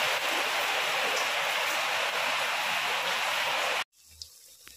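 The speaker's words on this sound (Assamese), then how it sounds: "পুৰা বৰষুণ দি আছে" Heavy rain pouring outside a house, a loud, close, even roar of falling water that cuts off abruptly near the end, leaving a faint quieter background.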